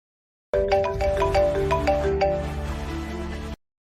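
A phone ringtone plays alone for about three seconds, a bright, repeating melodic tone pattern that starts abruptly and cuts off cleanly.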